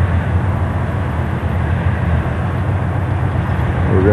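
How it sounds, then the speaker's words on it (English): A train passing nearby, a steady loud low rumble and roar filling the whole moment without a break, heard outdoors during a limo stakeout. "so we don't have to listen to this train"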